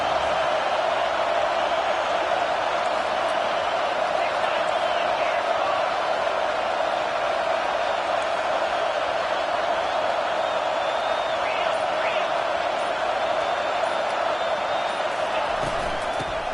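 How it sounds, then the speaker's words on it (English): A stadium crowd at a football game roars in a steady, dense wall of cheering and noise that stays loud and unbroken for the whole stretch. "Listen to this crowd just shaking the girders of this place,"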